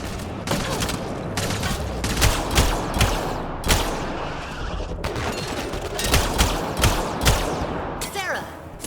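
Heavy gunfire in Mass Effect: Andromeda during a fight on Meridian, dense rapid shots and bursts clattering continuously at close range, with voices mixed in at times.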